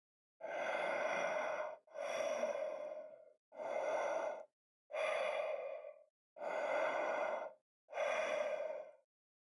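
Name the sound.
deep, steady breathing in an audiobook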